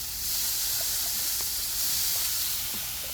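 Flames flaring up on a home backyard grill, heard as a steady broadband hiss and crackling sizzle, moderately loud and continuous, with a few faint pops and no talking.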